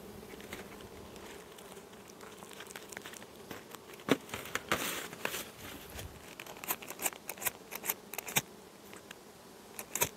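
Honeybees buzzing at a hive entrance during varroa treatment, a steady dense hum in wind, with scattered close clicks and handling bumps over it.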